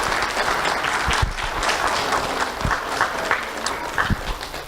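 Audience applause at an April 2023 community awards ceremony honoring members, a steady dense clapping that fills the whole stretch with a few sharper claps standing out near the end.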